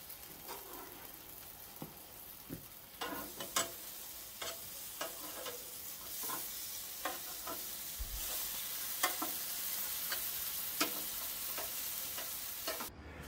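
Bread rolls grill on a braai beside lamb ribs, sizzling softly and steadily, with scattered sharp crackles and pops and a clack of tongs.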